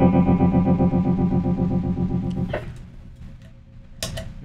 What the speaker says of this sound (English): the tremolo is really great. I'm gonna turn the intensity up.